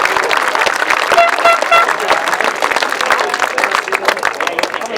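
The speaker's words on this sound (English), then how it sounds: "give him a round of applause" Dense, loud crowd applause fills the whole stretch at a 2016 British Masters Grasstrack trophy presentation, steady and continuous, with faint voices under it.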